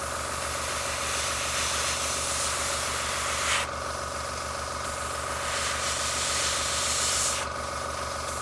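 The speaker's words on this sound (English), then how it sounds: "Explore and spray where you feel it just needs to be sprayed." An airbrush sprays primer or paint with a steady airy hiss, running continuously over a low mechanical hum, with brief pauses where the spray cuts off.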